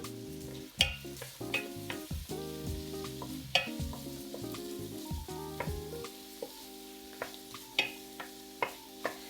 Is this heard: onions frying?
yes